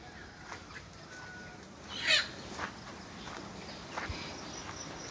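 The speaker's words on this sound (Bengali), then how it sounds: "মুরগির বাচ্চাগুলো বসে আছে" Chickens cluck faintly and intermittently in a farm shed, with one louder burst in the middle among quiet background rustling.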